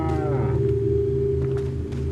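Cow mooing in the video game Resident Evil 4, a single long, loud, low moo with a drawn-out, slightly wavering pitch, heard alone with no talk over it.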